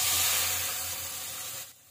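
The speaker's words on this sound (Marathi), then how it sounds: "वाटण ॲड केल्यानंतर ह्या वाटणला तेल सुटेपर्यंत आपण तो फोडणीमध्ये व्यवस्थित परतून घेणार आहोत" Ground masala paste for chole masala hits a hot oil tempering with a loud, broad hissing sizzle that slowly fades, then drops off sharply near the end. It is close, and no one speaks.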